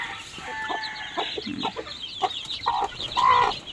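Hens cluck and newly hatched chicks cheep inside a backyard coop, a busy mix of short clucks and high peeps at moderate distance over steady outdoor background noise, with no talking.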